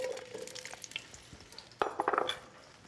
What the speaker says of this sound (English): We want to caramelize this zucchini